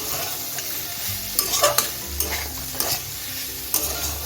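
Stirring sajne (drumstick flower) chochchori with raw mustard oil in a pan: scraping spoon strokes and clinks over a low steady sizzle, close and alone with no talk.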